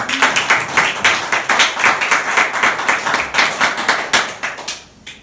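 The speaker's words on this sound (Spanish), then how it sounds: "Otro aplauso." An audience at a religious gathering breaks into a round of sharp, evenly spaced clapping that holds steady for several seconds, then trails off near the end.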